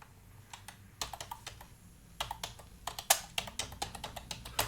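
Someone types on a computer keyboard in quick, irregular bursts of close, crisp key clicks with short pauses between words.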